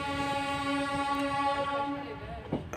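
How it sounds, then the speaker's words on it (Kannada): A WAG-9 locomotive approaching a platform, its horn holding a steady, loud harmonic blare over rail rumble, fading slightly before a faint clank at the end. "ಮುಂದೆ ಯಾವುದೋ ಟ್ರೈನ್ ಬರ್ತಿದೆ"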